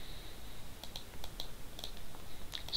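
An automatic typing tool drives a computer keyboard, giving quick, evenly spaced key clicks in short runs. The clicks sound faint and close against a quiet background.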